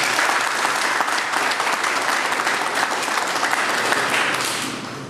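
Steady audience applause for a speaker at a law lecture on family law, a dense, even wash of many hands clapping that holds for about five seconds and then tapers slightly at the end, with no voices.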